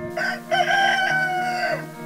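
A rooster crows loudly and close by, a single drawn-out call with a rising start and a long held, wavering middle.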